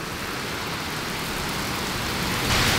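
Heavy rain pouring down during a storm in downtown Milwaukee, a dense steady hiss that swells slightly louder toward the end, with no voices.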